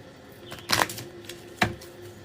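A deck of cards is shuffled close by in two quick riffles, a rapid burst of flutters followed by a second shorter one, with quiet room tone between.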